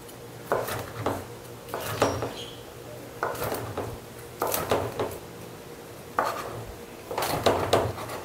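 A knife slices cooked food for a simple Taiwanese-style breakfast on a board, with bursts of repeated cutting knocks and scrapes separated by short pauses, close and moderately loud.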